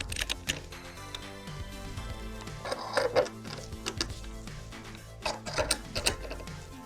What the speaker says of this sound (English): I'm starting the setup by attaching the C-clamp to the table